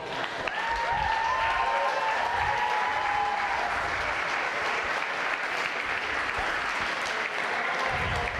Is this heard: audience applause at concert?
yes